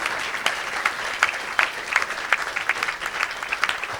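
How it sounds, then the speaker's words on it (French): A church congregation claps in sustained, dense applause, loud and close, with scattered sharper claps standing out across the crowd. "Ah, tu peux acclamer."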